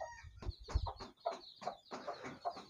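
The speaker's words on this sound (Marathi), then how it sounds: "तुम्ही फक्त पक्षी बघू शकता आणि कोंबडी बघू शकता खूप जालम कोंबडी आहे" A free-range hen clucks near her newly hatched chicks, giving a string of soft, close clucks and short calls in an uneven rhythm, fairly faint, with no talk over them.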